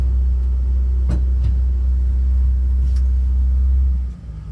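A French car's engine idles with a low, steady, close rumble while the car backs up, then the sound drops off near the end.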